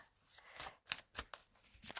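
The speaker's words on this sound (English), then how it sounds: "let's shuffle this one more time, get a few cards" Tarot or oracle cards being shuffled by hand at close range, with soft riffling and a few sharp flicks and snaps at irregular intervals, and no talking.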